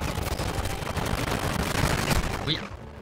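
Rapid gunfire in Warzone Mobile rattles continuously in dense bursts, loud and close, with faint talk mixed underneath.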